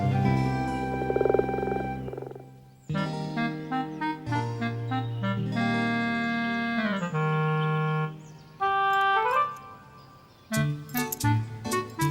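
Cartoonish frog croaks in a bright, musical series of calls, some sustained and others short and bouncing, loud and close, alone with no talking, heard near a pond where frogs lay their eggs.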